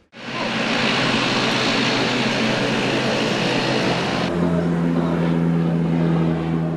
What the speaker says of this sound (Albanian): avioni i linjes Air Bosnia me kryeministrin Rama dhe delegacionin që e shoqëron la pistën e aeroportit të Rinasit